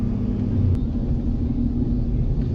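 Deep, constant exhaust rumble from a 2017+ Ford Super Duty diesel truck sits close and loud, a steady low drone with no change in pace.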